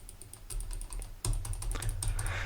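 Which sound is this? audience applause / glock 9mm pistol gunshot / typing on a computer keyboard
typing on a computer keyboard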